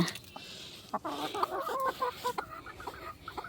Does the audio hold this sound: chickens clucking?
yes